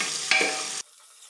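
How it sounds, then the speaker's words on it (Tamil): Onions sautéing in a pan for a one-pot cowpea rice dish, a close steady sizzle with a quick stirring scrape, cutting off abruptly into near silence. "வெங்காயம் நல்லா வதங்கணும்."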